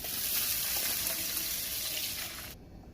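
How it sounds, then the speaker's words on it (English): Blended peppers poured into a pot with palm oil, giving a steady close rushing splash with a faint sizzle that stops abruptly near the end. "I'm going to go in with my blends."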